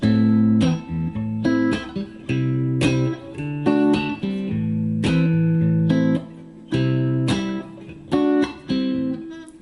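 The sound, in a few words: guitar chords without pushed C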